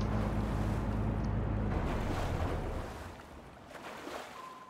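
Outboard boat engine running steadily in the Fishing Planet fishing game on an ocean map, a low droning hum with wind and water wash, loud at first and easing off after about three seconds.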